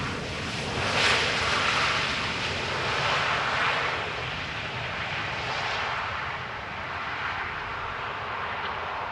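A jet airliner arriving at Amsterdam Schiphol Airport roars steadily in the distance, swelling and fading slightly, with wind and surf-like rushing underneath; no talking.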